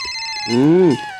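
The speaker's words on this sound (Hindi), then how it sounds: "तभी सोहन का फोन आ जाता है।" A phone rings during a Hindi family story drama, a steady electronic ringtone tone that swells into a louder musical note midway before settling back to a held tone.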